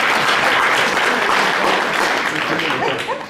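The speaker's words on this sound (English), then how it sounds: "Give them a round of applause." Audience applause fills a leadership keynote hall at a steady, dense roar of clapping that holds loud throughout and eases slightly at the end.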